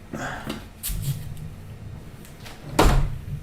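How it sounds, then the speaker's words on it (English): A door is pushed shut with one solid, loud thud near the end, after a few softer knocks and shuffling sounds nearby, with faint talk in the background. "I'm gonna close this door real quick because my neighbor let their dog out."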